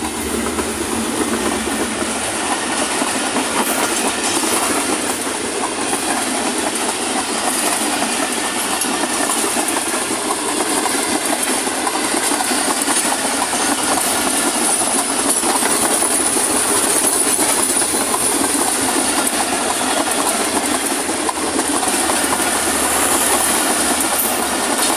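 Train running through Bagga station in India, a loud continuous rumble with rattling wagons and rhythmic clickety-clack on the rails, steady and close throughout, with no talk.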